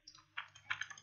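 Quiet typing on a computer keyboard: a few scattered key clicks in quick uneven succession, faint and close, with no talking.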